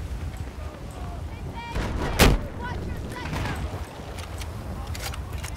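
Tank cannon and gunfire in the Battlefield 4 video game, with a sharp, loud blast near the middle and scattered shots and rumbling explosions around it, while a voice talks over the battle.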